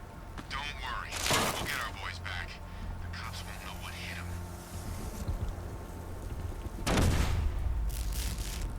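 Explosive gel charges detonating in Batman Arkham Knight, two sharp blasts a few seconds apart over steady game ambience, with a voice speaking in between.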